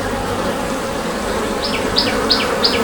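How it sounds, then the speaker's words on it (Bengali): Close, steady buzzing from many honeybees around hive boxes in a flowering lychee orchard, with a few short high chirps at the end. "কতগুলো মৌমাছি।"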